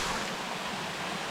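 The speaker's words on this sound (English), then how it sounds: "it's raining on me" Heavy rain pouring down in the Tahiti jungle beside a waterfall on the Vaihi trail, a dense, steady hiss that fills the whole moment without any break.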